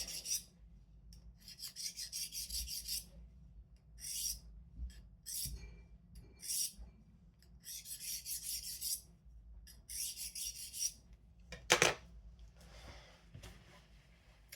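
A paring knife is honed on a sharpening stone in short alternating rasping strokes, close and crisp, coming in repeated bursts with brief pauses and a few light knocks, with no talking.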